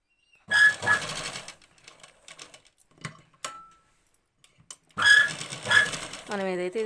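A sewing machine stitches a long frock made from an old saree, running in two bursts of fast, rhythmic clatter separated by a quiet pause with small clicks, close by; someone talks at the end.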